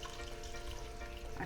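Water poured into a pan of frying curry, a steady loud hiss and bubbling sizzle running throughout with a brief splash near the end.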